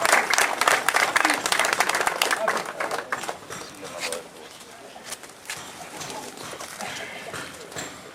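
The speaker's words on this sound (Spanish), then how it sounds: "vamos a darle un fuerte aplauso" Crowd applause at a commemorative plaque-unveiling ceremony, a dense patter of clapping that is loudest at first, then thins and fades toward a scattered finish, with voices and pigeons cooing in the background.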